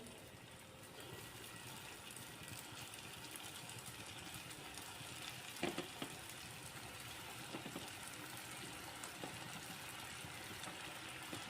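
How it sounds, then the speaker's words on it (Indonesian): Quail eggs fry in hot cooking oil over low heat, giving a soft, steady sizzling hiss with faint crackles throughout. "Kita goreng dengan api yang kecil ya, biar tidak gosong."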